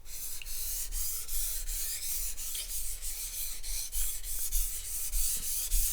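A sushi knife is drawn back and forth across a whetstone in steady, rhythmic scraping strokes, close and moderately loud, with no talk.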